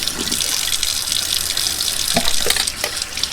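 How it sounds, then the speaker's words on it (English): Hot water runs steadily from a tap while a container of goat milk is held under the stream, giving a close, continuous splashing rush with small irregular gurgles and no talking. "We are going to run this under hot water."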